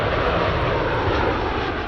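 Steady, loud jet aircraft engine roar, a dense continuous blast that holds unchanged throughout with no voices.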